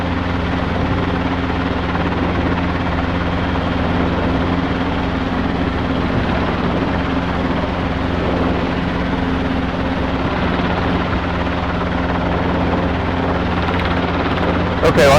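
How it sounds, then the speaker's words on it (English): A Robinson R22 helicopter drones steadily up close while hovering, its rotor chop and engine hum holding constant throughout without a break. "Okay, well, I can still hover,"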